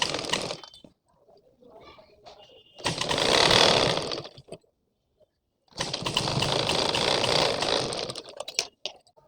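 A sewing machine stitching a folded strip on a blouse sleeve, running in two sustained bursts of rapid mechanical whirring separated by brief pauses, close and fairly loud with light handling noises between.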